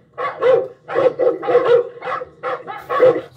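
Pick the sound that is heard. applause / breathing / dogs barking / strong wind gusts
dogs barking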